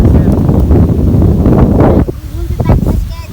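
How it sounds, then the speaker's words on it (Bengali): Steady wind buffeting the microphone in a continuous low rumble on a riverbank, with a person talking over it throughout. "কি সুন্দর বাতাস"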